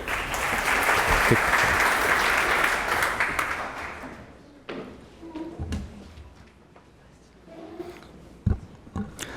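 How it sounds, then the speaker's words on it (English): A conference audience applauds for about four seconds in a dense, fairly close burst that fades out, leaving a quiet room with scattered soft taps and thumps. "Round of applause for Alex Brass."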